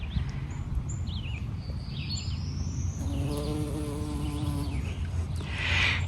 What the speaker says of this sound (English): The bees are busy gathering their breakfast.